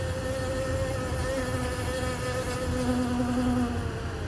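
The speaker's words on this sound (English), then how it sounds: "This one's funny because it's bees, but it kind of sounds like flies or mosquitoes, so it's triggering." Bees buzz in a dense, continuous drone that sounds much like flies or mosquitoes. The buzzing is steady and fairly loud, with no talk over it.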